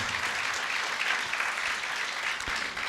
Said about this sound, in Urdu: انہیں بھی بھرپور تالیوں میں مبارکباد پیش کرتے ہیں